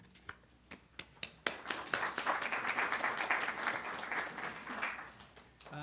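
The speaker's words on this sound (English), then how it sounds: "You can save that applause for our speaker" An audience at a talk on Liberia claps, opening with a few scattered, sharp individual claps before swelling into dense, sustained applause that thins slightly near the end.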